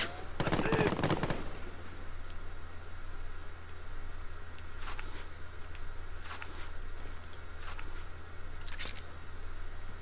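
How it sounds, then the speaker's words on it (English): Gunfire in Call of Duty Warzone: a loud opening burst of rapid shots, then scattered sharper cracks from farther off over a constant steady hum. "He's shooting from the top part."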